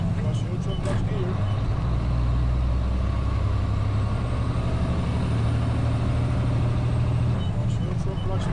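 Heavy truck engine with a 10-speed manual transmission, droning low and steady while shifting up through the gears on a road, with the pitch shifting slightly as the clutch engages between gears.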